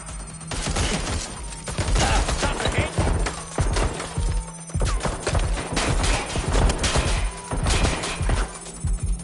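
Gunfire from a firefight in the video game Watch Dogs, with repeated sharp shots in irregular volleys, close and fairly loud, over a low steady hum.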